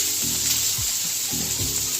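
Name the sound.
pointed gourd frying with turmeric and salt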